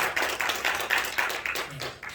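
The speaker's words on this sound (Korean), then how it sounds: "다 함께 박수로 영광 돌립니다" Church congregation clapping together to welcome a guest lecturer, a steady, fairly even run of hand claps in a regular rhythm, moderately close, with no talking over it.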